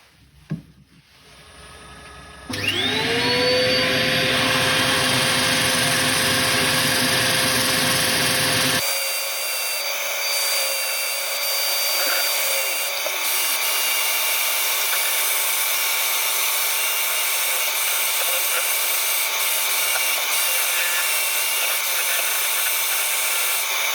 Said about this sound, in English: the sanding went well